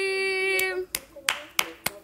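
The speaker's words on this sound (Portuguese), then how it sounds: "Uma salva de palmas para essa live surpresa" A held sung or voiced tone gives way to a few sharp, separate hand claps spaced roughly every third of a second during a live fan stream, close and distinct.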